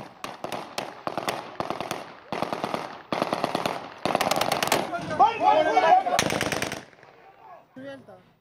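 Rapid bursts of gunfire ring out during a by-election in Mardan, volleys of sharp shots in quick succession, loud and close, followed by fainter scattered sounds and brief voices near the end.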